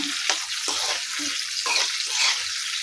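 Paneer roasts in ghee in a pan with a steady bright sizzle, and stirring scrapes come through in short pulses.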